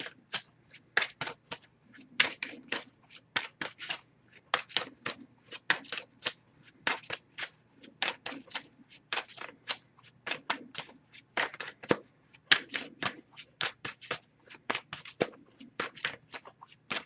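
A deck of Messages of Love oracle cards being shuffled by hand, producing steady rapid bursts of crisp riffling and card slaps in close succession, fairly near and alone with no talk.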